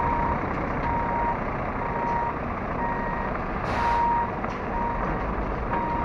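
A 22-wheel truck with a trailer reverses, its backup alarm beeping steadily at an even rhythm over a constant loud engine drone.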